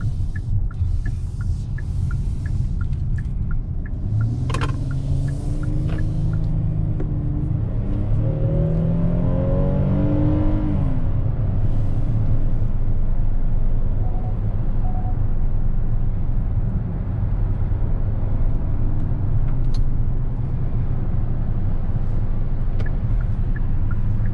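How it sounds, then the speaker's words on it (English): A 2021 Hyundai Palisade Calligraphy SUV cruising on a highway, with steady loud road and engine rumble, a rising whir as it accelerates, and constant wind and tire noise. "We're gonna go ahead and take it on the highway and see how it does"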